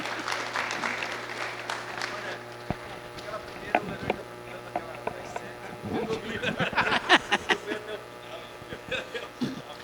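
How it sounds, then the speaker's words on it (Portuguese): Audience applause at a mining engineering talk, a patter of claps that builds and thickens into a burst of clapping, with a voice speaking underneath near the start. "Pode repetir as palmas"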